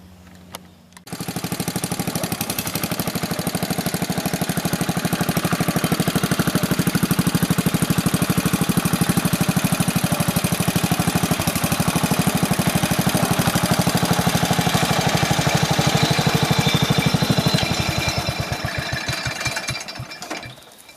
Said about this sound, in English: I'll load them up in the tractor